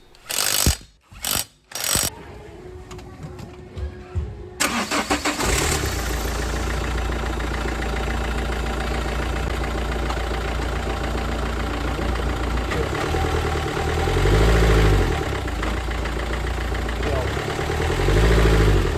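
A Renault Symbol 1.5 dCi diesel engine runs steadily while a wheel turns on the jack, after a few sharp knocks at the start; the revs swell slightly near the end.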